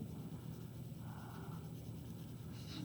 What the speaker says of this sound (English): Just going to lightly color it in using the side of my pencil